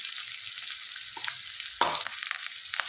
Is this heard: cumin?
yes